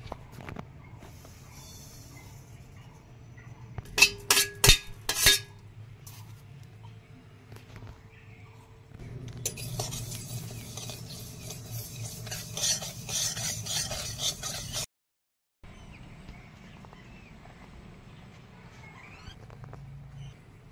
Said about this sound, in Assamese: এইফালে মই ভাজি ল'ম তিলখিনি